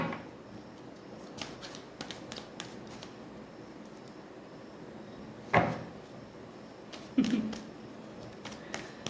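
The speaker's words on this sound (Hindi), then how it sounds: "मैं आपके सामने शफल कर रही हूं।" Tarot cards being shuffled indoors, quiet soft riffling in bursts with a couple of louder slaps and clicks between them.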